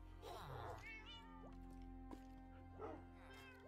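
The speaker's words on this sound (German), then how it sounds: "Katze weint." A Minecraft cat gives two distinct meows, one early and one near the end, fairly close and clear over a steady game background.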